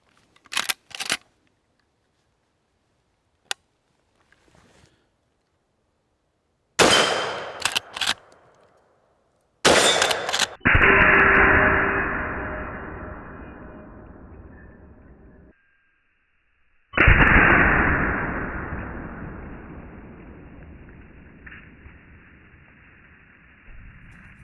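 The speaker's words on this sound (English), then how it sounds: "So let's do some shooting real quick" Gunshots from a Winchester 94 lever-action rifle chambered in .357 Magnum: a few sharp, loud reports, each followed by a long ringing outdoor echo, separated by pauses and faint mechanical clicks of the action.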